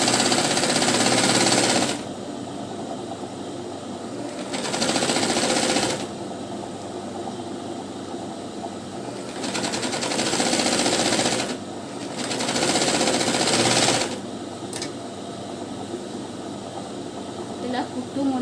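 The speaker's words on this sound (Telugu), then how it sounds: "ఇలా కుట్టు ముడుతున్నా కూడా సీదా అనుకుంటూ కుట్టుకోవాలి." Sewing machine stitching a blouse lining, running in loud whirring bursts of a few seconds each, separated by pauses where a person talks.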